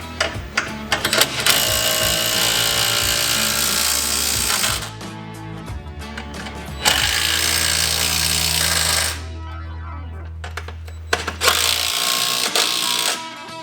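A power tool tightens rock slider bolts on a two-seat Polaris RZR 1000 side-by-side, heard as several loud, sustained whirring runs with rattling, ratchet-like bursts between them and no talking.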